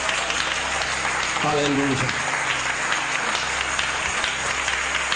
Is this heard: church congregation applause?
yes